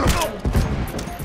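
Rapid, punchy gunfire from a hunting rifle in The Last of Us multiplayer comes as several close, sharp thumping shots over about a second, with mechanical clatter between them.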